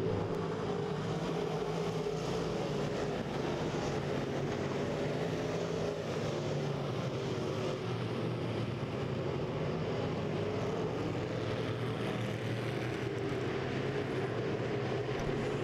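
Street stock race cars at Lake of the Ozarks Speedway roar around the track in a dense, continuous engine drone that holds steady at a moderate distance.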